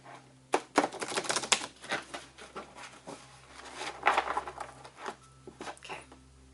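Crisp, rapid riffling bursts of playing cards being shuffled, coming in several uneven flurries close by, with no talking.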